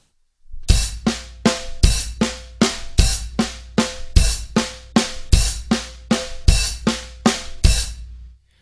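A drum kit plays a slow, even pattern of kick, snare and open hi-hat barks, about a dozen crisp ringing hits spaced roughly half a second apart, close and clear with nothing else heard.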